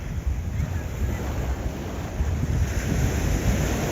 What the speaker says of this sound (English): The sound of water moving, yeah, it's beautiful.